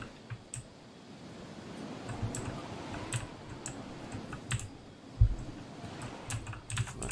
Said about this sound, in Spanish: las teclas del teclado mecánico me encanta